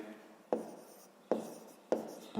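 A pen writes on paper while a fifth-grade math exercise is being solved, with three distinct scratchy strokes, each starting sharply and trailing off, close and quiet with no voices.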